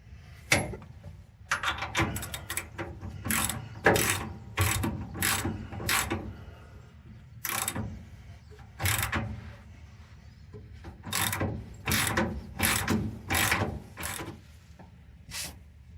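A hand ratchet clicks in quick bursts while tightening a lower control arm bolt on a 1969 Dodge Charger during a suspension install, close up with short pauses between strokes.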